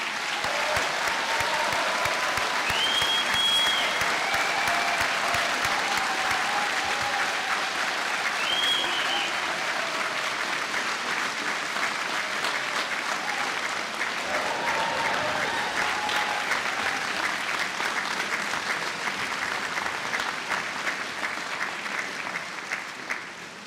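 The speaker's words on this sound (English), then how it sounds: "We might just give all the graduates a round of applause." At an engineering graduation conferring ceremony, a hall full of people gives the graduates a long, sustained round of applause, dense and even throughout before easing off at the very end.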